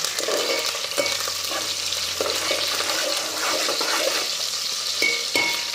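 Curry leaves crackle and sizzle in hot oil in a home kitchen pan, a dense steady frying hiss heard close up with occasional stirring clinks.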